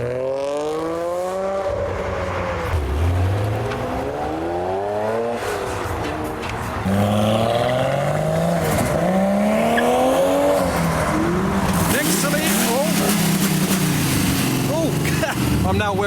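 Nissan Skyline cars rolling past at a car meet, engines revving and rising and falling in pitch as they go by, loud and close, with a continuous mechanical roar and people talking underneath.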